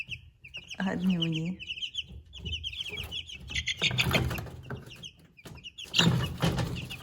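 American breed chicks in a brooder chirp and peep in a scattered, busy chorus from close by, with someone speaking over much of it.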